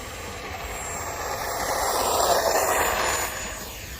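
An FMS 64mm Rafale electric ducted-fan RC jet takes off, a steady broadband rushing whine that swells slightly mid-way then eases, heard from fairly close outdoors with no talk.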